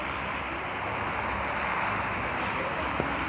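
An airplane passes overhead, heard as a continuous distant engine drone that swells slightly and holds steady, with no talking.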